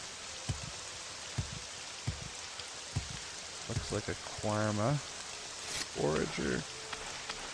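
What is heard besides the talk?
rain falling, video game Morrowind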